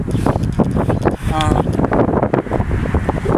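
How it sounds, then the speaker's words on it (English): Gusty wind buffets the microphone in loud rumbling bursts, with a person talking over it outdoors. "But it's windy out here, and I hope you guys can hear me."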